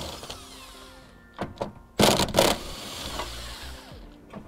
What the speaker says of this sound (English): Now I'm just using an 18 millimeter socket.